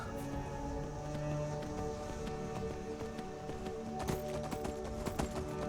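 Horse hooves clip-clop at a steady riding pace in the video game Skyrim, a continuous close rhythmic clatter with faint rustling underneath and no talking.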